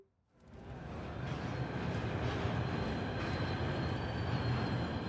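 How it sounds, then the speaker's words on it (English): A steady, loud train rumble with rolling wheel noise builds up within the first second and holds, unbroken and close, in Warhammer 40k: Rogue Trader. "The roar, the boiler, the wheels thumping like mad, the furious power pulsing in your hands."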